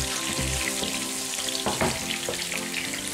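Onions frying in a pan as a steady close sizzle with occasional stirring scrapes, no voices.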